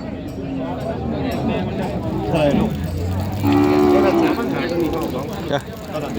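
Cattle moo loudly and close at a rural Thai cow market, with one long low call rising in the middle, over a background of crowd chatter and people talking.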